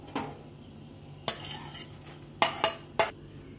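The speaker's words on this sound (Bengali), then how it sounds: "চিকেনটা এইভাবে আমি টুকরো টুকরো করে নিয়েছি। এবার আমি স্যুপের মধ্যে দিয়ে দিচ্ছি।" Shredded chicken pieces dropped into a pot of chicken soup, giving a few separate clinks and soft splashes of utensils against the pot, close and fairly quiet over a low steady hum.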